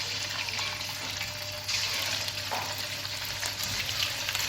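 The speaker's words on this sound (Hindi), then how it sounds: "अब हम इसमें कोफ्ते फ्राई करेंगे।" Chicken koftas frying in hot oil in a kadai, a steady hiss of bubbling oil with a faint low hum underneath and one brief louder swell, heard close with no voices.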